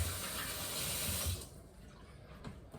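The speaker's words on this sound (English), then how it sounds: "Wash them off real quick." Hands being washed under a running kitchen tap in hot soapy water while preparing meatballs, a steady close splashing stream that stops abruptly partway through, leaving faint drips and handling noises.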